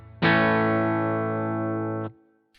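A single sustained guitar chord rings out through the preamp of a Boss GT-1 multi-effects pedal, loud and even, then cuts off after about two seconds.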